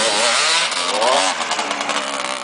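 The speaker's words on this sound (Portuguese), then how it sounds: "Acabando com a sua moto, Thiago" A motorcycle engine revs hard and close, its pitch rising and falling in quick bursts, loud throughout with no talk.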